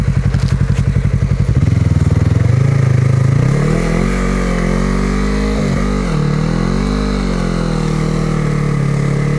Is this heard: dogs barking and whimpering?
no